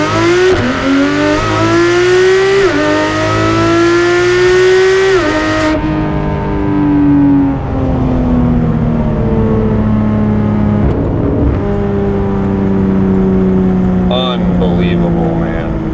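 Porsche 991 911 GT3 RS engine and exhaust while driving, loud and close, revving up and shifting through gears with rising and falling pitch, continuous throughout.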